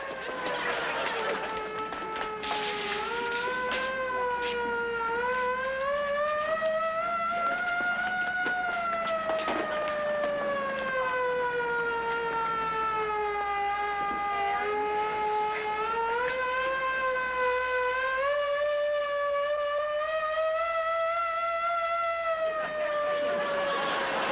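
A wailing siren rises and falls in long, smooth sweeps, loud and close, with faint voices underneath.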